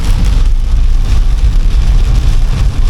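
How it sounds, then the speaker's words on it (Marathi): Heavy rain pouring outside in May, a loud, dense, steady roar that fills the short stretch without a break. "आठ तारखेला तुम्ही बाहेर बघू शकता पाऊस किती पडतोय"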